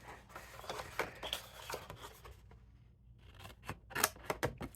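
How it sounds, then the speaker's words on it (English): Scissors cut through watercolor card in a run of crisp, close snips and rustles, with a short pause before a quick burst of sharper cuts. "I'm just going to cut with the scissors. And this is the watercolor card"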